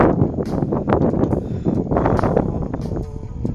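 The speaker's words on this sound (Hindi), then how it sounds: "हवा चल रही है" Wind blows across an outdoor rooftop in hot Saudi weather. It makes a loud, steady, rough rush that buffets the microphone for a few seconds, with no talking.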